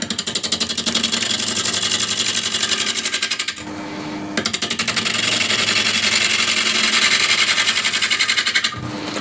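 A wood lathe runs steadily at 700 RPM while a bowl gouge with an asymmetric grind hollows a bowl, giving a loud, continuous rhythmic drone that drops out briefly in the middle before resuming.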